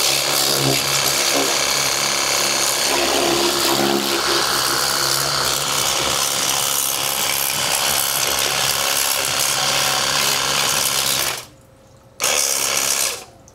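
A Zipper jet cleaner pressure washer sprays a motorcycle with a loud, harsh hiss and mechanical chatter, close by, then cuts off briefly and starts again near the end.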